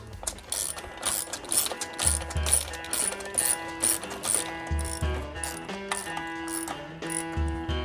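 A ratchet tightens bolts on a Suzuki engine during a fuel injector replacement, giving bursts of quick metallic clicking in an uneven rhythm, close up and fairly quiet, with no voices.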